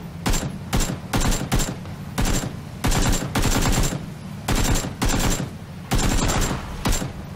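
Bursts of automatic gunfire from the video game PlayerUnknown's Battlegrounds crackle in loud repeated volleys, about a dozen sharp bursts separated by brief gaps, close and punchy with no talk over them.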